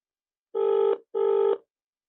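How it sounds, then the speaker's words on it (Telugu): A phone rings during an outgoing call, giving two clean, buzzy electronic ring bursts of about half a second each, separated by a short gap and followed by silence. "జడ్సన్ అన్న ఫోన్ కలుస్తాను కానీ మరి లిఫ్ట్ చేసే స్థితిలో ఉన్నాడు"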